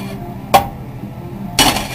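A hot pan clatters in a home kitchen during cooking, two sharp metallic clanks about a second apart, close and fairly loud against a quiet room tone.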